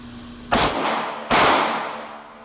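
Two sharp pistol shots from a Sig P365 at a range, spaced under a second apart, loud and close with short decaying echoes.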